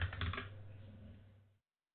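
Quiet, rapid tapping on a computer keyboard, a short burst of keystrokes close by that fades out after about a second and a half.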